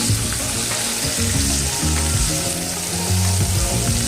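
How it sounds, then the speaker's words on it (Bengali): Bitter gourd frying for a bitter curry, a loud, dense crackling sizzle running unbroken and close throughout, with low bubbling underneath and no voices. "এটাকেও আমি এবার ভালো করে ভেজে নেব"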